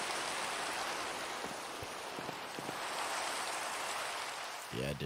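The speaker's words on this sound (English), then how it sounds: "Hopefully it'll stop raining" Steady broadband rain hiss in Minecraft, an even wash of falling rain that continues throughout without breaks, with a short tonal game sound near the end.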